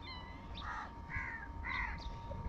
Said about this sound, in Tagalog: Nagsisibabaan na yung mga uwak.